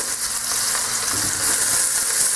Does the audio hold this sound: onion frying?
yes